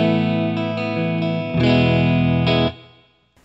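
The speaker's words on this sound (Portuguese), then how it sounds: "Mas de repente você tem um reverb simples, que só tem o spring reverb." An electric guitar played through a spring reverb pedal rings out in sustained chords, one held, then a brighter strum that swells and decays into a shimmering reverb tail.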